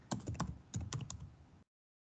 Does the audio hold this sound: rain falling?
no